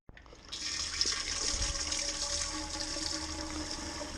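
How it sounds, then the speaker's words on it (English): Sanitizer liquid rushes steadily into a beer keg as it is filled, a continuous hiss of pouring and splashing liquid that starts abruptly and holds at an even level throughout. "I like to fill the keg with sanitizer"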